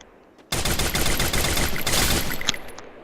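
Dense burst of automatic gunfire from the battle royale video game Free Fire starts abruptly and runs loud for over two seconds, with rapid overlapping shots and a sharper single crack near the end.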